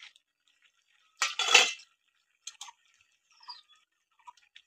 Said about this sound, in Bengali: আমি এবার ঢাকাটা খুলে নেব।